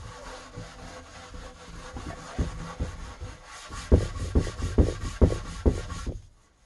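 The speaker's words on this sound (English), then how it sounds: "So if you're rubbing across the grain" Wire wool scrubs rhythmically across the wooden cabinet of a Tannoy Monitor Gold loudspeaker, the rasping strokes starting soft and growing louder and faster toward the end before stopping abruptly.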